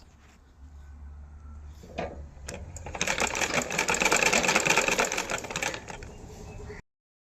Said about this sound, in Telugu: ఇలా ఇక్కడి నుంచి ఇట్లా స్ట్రైట్గా కుట్టుకుంటూ వచ్చి ఇక్కడి నుంచి ఇక్కడికి స్టిచ్ చేసుకోవాలి